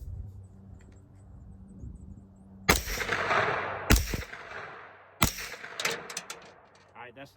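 Three suppressed shots of 115-grain supersonic 9mm rounds from an Aero Precision EPC-9 AR9 carbine, sharp loud cracks spaced about a second apart with a decaying tail after each, over a low background hum.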